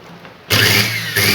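A repaired household electric kitchen blender motor switches on abruptly after a brief quiet moment and runs loud and steady at close range with a constant whirring hum, with no talking.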